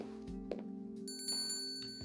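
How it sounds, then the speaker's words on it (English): A shop door bell rings twice as someone enters a grocery store in a visual novel game, its bright metallic chimes sounding clearly over steady background music with no talking. "I entered the store, the sound of a bell alerting the staff to my arrival."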